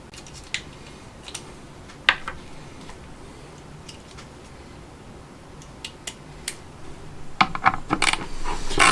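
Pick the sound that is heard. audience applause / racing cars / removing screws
removing screws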